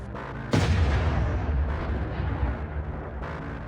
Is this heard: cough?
no